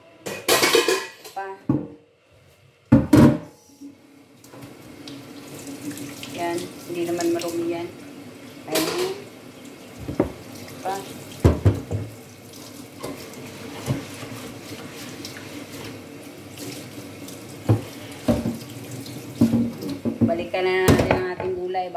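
Dishes get washed up at a kitchen sink under a running tap, with water splashing and pots, plates and cutlery clattering and clinking in irregular bursts, fairly close, while someone talks intermittently over it.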